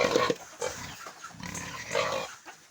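Sows and a boar on a pig farm grunt and snort close by at feeding time, a run of short, rough, repeated grunts with no one speaking.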